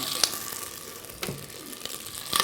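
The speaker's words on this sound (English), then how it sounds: "So a little bit of sherry in there like that" Sherry splashes into a hot pan of beetroots and small boiled onions, giving a quiet steady sizzle with a few sharp crackles and pops, close up with no voices.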